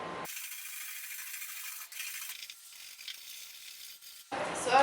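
Brush scrubbing rust flakes off the engine bay of a C10 truck, a steady close abrasive rasping that runs almost continuously and changes texture partway through, with handling noise at the very end.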